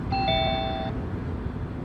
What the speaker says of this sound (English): When the doorbell rings, a camera sends an image to the terminals throughout the home